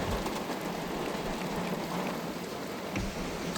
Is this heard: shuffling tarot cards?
no